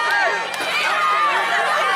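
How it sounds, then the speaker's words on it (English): Wrestling crowd at a USWX independent show roars and cheers wildly, a dense continuous wall of voices with shrill yells on top, loud and close throughout. "This crowd coming unglued here."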